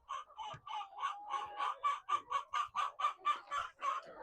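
Cage-free chickens inside a poultry house cluck in a steady, rhythmic series of nearby calls, with a faint rustle and bump underneath.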